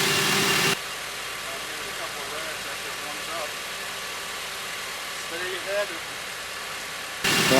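A 7th-generation Honda Civic engine idles steadily at a low, even rumble while warming up after a timing belt service, with faint chirping and clicks over it and louder noise bursts at the start and end.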